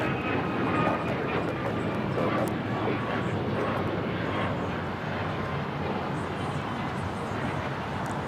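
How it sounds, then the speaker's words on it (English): A United Airlines Boeing 737 MAX 9 on flight 1621 to Orlando roars on its takeoff roll, a steady, broad engine rush held at middle distance without a break. "1621 taking off to Orlando on the MAX 9"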